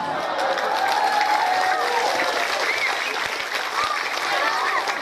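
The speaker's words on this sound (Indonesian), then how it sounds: "tepuk tangan" A large audience at a religious lecture gathering gives loud, dense, continuous applause that fills the whole stretch, with some crowd noise and voices mixed in.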